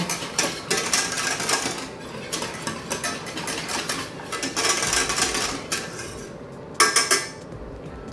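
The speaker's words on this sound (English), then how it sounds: "We can add the vanilla paste and stir this really well." Vanilla paste being stirred into plant-based cream in a pot, a utensil scraping and clinking against the pan in irregular bursts, close and fairly loud, with short pauses between strokes.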